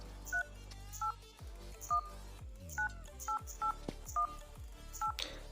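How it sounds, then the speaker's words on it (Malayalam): Phone keypad tones sound as a number is typed in: about nine short, sharp beeps at an uneven pace over a low background drone. "ഇപ്പം എൻ്റെ ഒരു നമ്പർ ടൈപ്പ് ചെയ്യാണ്."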